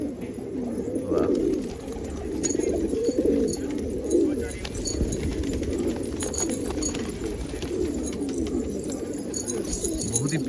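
Pigeons coo in soft, repeated throaty murmurs over a low background hum, with a few faint clicks and rustles scattered through.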